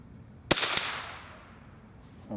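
A single sharp rifle shot fired at a middle target with flat nose Basic SK ammunition, with a second crack close behind and a long ringing decay outdoors, followed by quiet.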